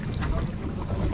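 Motorboat on open water, a steady rumbling engine drone mixed with splashing and wind buffeting the microphone, loud and close throughout a short moment.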